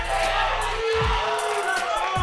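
A crowd at an esports event cheers and shouts in a loud, dense roar with voices bellowing over it, ending in a short burst of rhythmic chanting.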